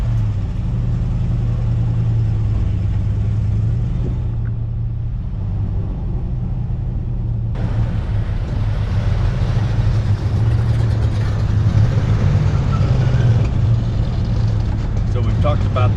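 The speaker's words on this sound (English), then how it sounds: "we're going to go for a quick noisy test drive" Steady low engine rumble from a 1970 Chevelle SS 454 convertible clone on a test drive, continuous and fairly loud, with wind noise rising partway through.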